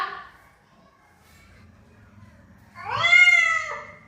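A cat gives one clear, loud meow lasting under a second, close by, after a quiet stretch with faint low background murmur.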